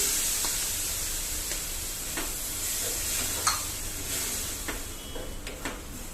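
Tomato purée goes into a pan of sizzling onion, mustard seed and spices for a tangy achari paneer gravy, giving a steady close hiss and frying crackle with a few soft stirring scrapes and clicks, no one talking.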